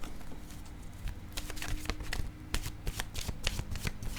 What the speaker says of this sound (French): je vais piger maintenant une carte de mon oracle de l'âme intuitive.